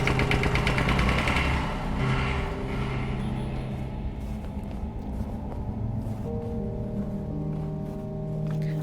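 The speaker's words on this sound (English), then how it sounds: "I only saw the rumbling tractor that was creeping from the corner." A tractor engine in the horror game Tiny Bunny gives off a low, continuous rumble beneath layered ambient tones. It stays fairly loud and steady throughout.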